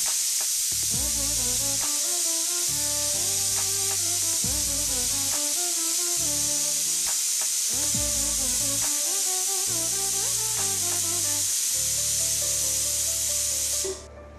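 Pressure cooker on a stove cooking quail biryani hisses with a steady loud steam jet throughout, while a music track plays underneath; the hiss cuts out near the end.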